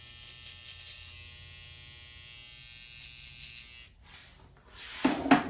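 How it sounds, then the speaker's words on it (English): An electric foil shaver buzzes steadily close by while shaving hair during a high taper haircut, then the hum drops out and a louder brief rustle follows near the end. "You wanna grab your foil shaver and just shave it out"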